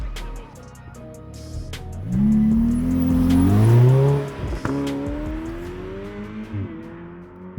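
A car engine revs and accelerates, pitch climbing through gear changes, loud and close, then settling to a steadier drone.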